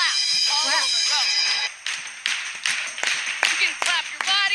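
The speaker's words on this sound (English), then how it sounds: "Get ready, everybody. We're gonna clap all clap." A group of people claps hands together in a lively participatory music session, the claps ringing out as a steady string of sharp, fairly loud bursts over sustained musical tones and voices.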